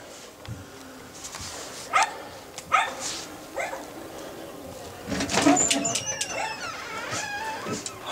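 Dogs bark and yip in short bursts at close range, mixed with people greeting and talking over a noisy room.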